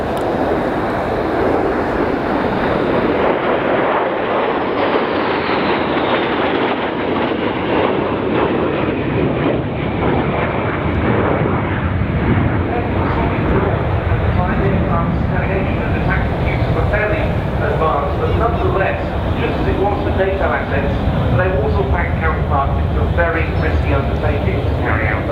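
Sukhoi Su-22 jets run in for another pass at an air show, RIAT 2014, giving a loud, continuous roar that holds steady throughout under spoken commentary.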